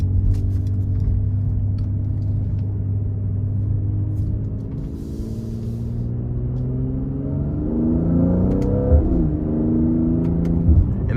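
Twin-turbo V6 engine and exhaust of a 2023 Mercedes-AMG GLC 43 Coupe in Sport Plus, heard from inside as it accelerates, a loud steady drone whose pitch rises through the gears, with a quick shift near the end.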